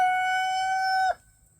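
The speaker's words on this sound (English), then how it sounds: "That is one of my American breast roosters." An American breed rooster on an off-grid homestead gives one long, clear crow, sustained and fairly close, then breaks off abruptly into quiet.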